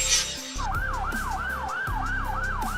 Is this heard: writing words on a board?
no